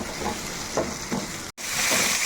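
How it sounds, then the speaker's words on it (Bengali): Chopped tomato and spices fry in a pan while being stirred, with a steady broadband sizzle and a few soft scraping strokes of the spoon, close and continuous, broken by a brief cut. "একটা টমেটো এইভাবে কুচি করে দিয়ে দিতে হবে। দিয়ে দেওয়ার পর খুব ভালোভাবে মশলার সঙ্গে মিশিয়ে কিছুক্ষণ ভেজে নিতে হবে।"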